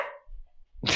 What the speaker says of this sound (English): I like the relaxed bark because that's hilarious.